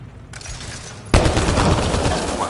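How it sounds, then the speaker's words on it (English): Rapid gunfire from the video game Mass Effect Andromeda, shooting at a rock: a loud sustained burst of shots erupts abruptly after a quieter stretch of low rumbling ambience, continuing densely to the end. "Go ahead and shoot the rock or something."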